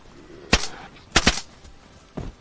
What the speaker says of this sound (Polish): O, jakiś strzał.